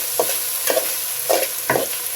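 Spice paste of chili powder, ground nut paste and coconut stirred in a hot frying pan for a cucumber curry, with steady sizzling and four or five distinct scraping strokes at an even rhythm, close and fairly loud, no voices.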